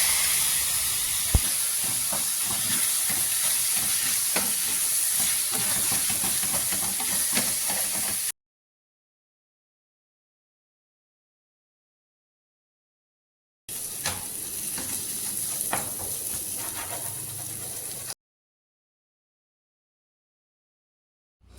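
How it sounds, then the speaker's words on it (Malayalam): Chopped tomato frying with ginger and garlic for a taro stem roast, a dense close sizzle and hiss with occasional stirring clicks, cut by a long stretch of silence before the sizzling resumes. "ചെറിയ പീസായി കട്ട് ചെയ്ത് നമുക്ക് ചേർത്ത് കൊടുക്കാം"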